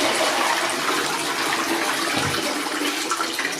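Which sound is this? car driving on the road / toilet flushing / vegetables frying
toilet flushing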